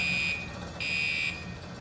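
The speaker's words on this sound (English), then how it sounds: "First, we have the fire alarm." An industrial plant fire alarm sounds as a high, steady electronic tone that pulses on and off in long blasts, loud and continuous, with no talk over it.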